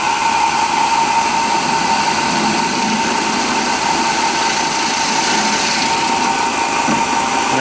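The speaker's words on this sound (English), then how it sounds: "and we're going to drill through." A twist drill boring through sheet metal with a scrap of cloth laid over the spot, a steady loud whine-and-grind running continuously throughout without a break.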